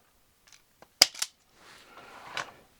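Cutting and stripping insulation from the end of a red wire while installing a Reliance Controls 310CRK 10-circuit transfer switch: a sharp snip, then a quick crisp pull of insulation, followed by softer rustling handling, close up and alone.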